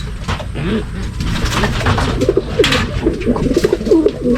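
Racing pigeons at a loft cooing in a rapid series of soft, throaty warbles that grow more frequent toward the end, close by over low background noise.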